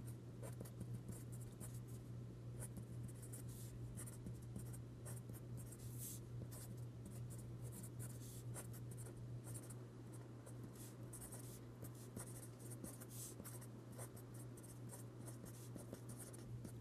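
A pen or pencil drawing vertical lines on paper, a faint close-up series of short scratchy strokes repeating steadily, over a constant low hum.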